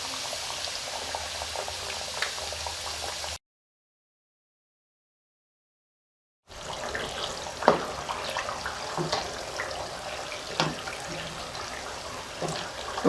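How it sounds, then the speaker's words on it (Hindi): Potato samosas deep frying in oil, a dense continuous bubbling sizzle close by that cuts out briefly then resumes with occasional pops, no talking. "तकरीबन इसको 6 से 7 मिनट लगेंगे फ्राई होने में।"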